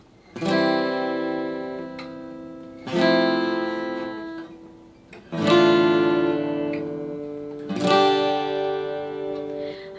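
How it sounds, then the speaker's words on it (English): Four separate guitar chords, each a single downward strum left to ring and fade before the next, evenly spaced and unaccompanied. "It's just a single down strum"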